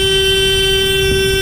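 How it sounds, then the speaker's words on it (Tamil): Horn of a government passenger boat on the Alappuzha backwaters, sounding one loud, steady, unbroken blast for the whole moment, close by and drowning out everything else. "இது எதுக்கு இந்த ஹாரன் சத்தம்னா"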